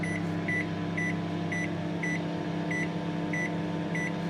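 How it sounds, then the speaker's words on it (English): A microwave oven hums steadily, with a low drone and a regular series of short, evenly spaced beeps repeating throughout. "so I'm using the microwave. So now again I will set the timer for 5 minutes."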